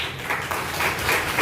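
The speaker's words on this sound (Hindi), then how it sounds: "तालियों से इनका आवर्धन करें।" An audience at a university jayanti ceremony in Allahabad applauds, a dense, steady wash of clapping throughout.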